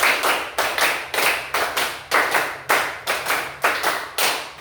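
Children in a classroom clap their hands in a counted rhythm game, sharp claps falling in short, uneven groups that follow a tally, close and fairly loud with no talk over them.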